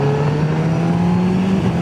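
A 2021 Honda CB1000R Black Edition motorcycle engine revs up close after a hairpin bend, its pitch climbing smoothly as it accelerates, loud and continuous.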